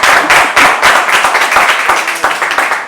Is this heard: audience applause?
yes